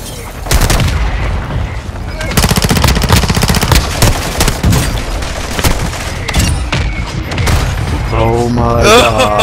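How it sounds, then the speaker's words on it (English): A mortar strike in the shooter Call of Duty: Modern Warfare II sends heavy booming impacts mixed with rattling gunfire in loud, dense bursts, with a voice speaking over the battle. "Hostile mortar strike in the area."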